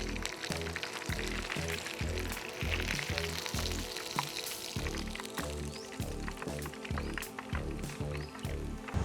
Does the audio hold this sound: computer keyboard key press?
no